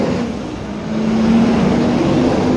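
A steady low engine rumble with broadband road noise swells slightly as a truck passes nearby, with no talking.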